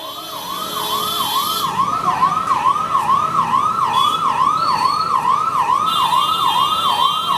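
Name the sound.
ambulance siren in a crowd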